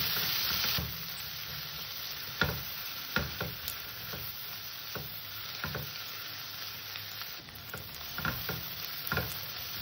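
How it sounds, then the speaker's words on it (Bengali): Sliced onion, salted, frying in oil until browned: a steady close sizzle and crackle runs throughout, broken by spatula scrapes and clinks against the pan, with no talking. "পেঁয়াজটাকে আমি সুন্দর করে লাল করে ভেজে নেব"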